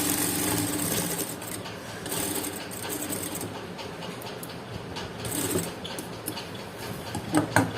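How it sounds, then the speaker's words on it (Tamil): A sewing machine stitching a blouse hem runs in a quiet, rapid mechanical patter, soft and close, with brief ticks and pauses as the stitching goes on. "ஒரு 1/4 இன்ச்சுக்கு தையல் போட்டுக்கலாம்"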